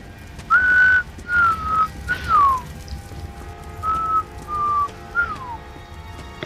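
A character in the video game Metro: Last Night whistles a short, clear two-phrase tune of sliding notes, each phrase a few notes long with a pause between, heard alone and close over faint background ambience.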